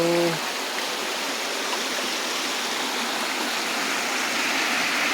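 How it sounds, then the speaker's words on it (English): Loud, continuous rush of a creek flowing close by at Bridal Veil Falls, Tinkers Creek, Bedford, Ohio, a steady broadband roar from start to finish with a brief tone at the very beginning. "Water's rushing past my feet."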